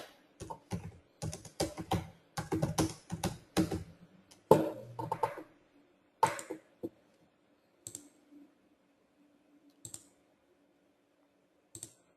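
Clicky computer-keyboard typing, close and clear: dense bursts of rapid keystrokes for about six seconds, then a few sparse isolated key presses separated by silence, with no talking.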